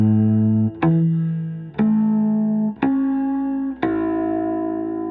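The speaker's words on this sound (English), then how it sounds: "I need to really push hard on my finger to get clear harmonics." Bass guitar harmonics played one after another on three separate strings through effects, four bell-like tones each starting with a sharp attack and sustaining, shifting pitch with each new note, alone with no talk.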